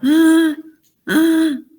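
A voice imitates laryngeal stridor, making two harsh, tonal, crowing inhaled sounds, each about half a second long, separated by a brief pause, loud and close.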